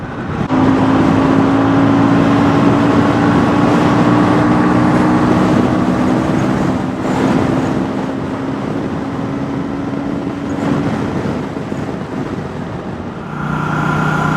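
A KTM 160 Duke motorcycle accelerates hard toward 100 km/h on the road. A loud, steady engine drone rises in pitch and is joined by wind rush, then gives way to a lower note near the end.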